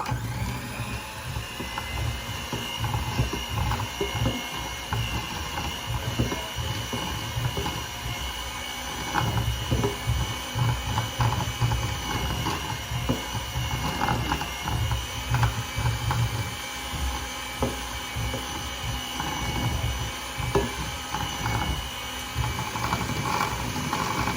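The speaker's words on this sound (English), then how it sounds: "I'm just going to use a regular mixer." Electric hand mixer beating sugar in a bowl, a steady mechanical whir with rattling and clicking that runs continuously for about twenty seconds.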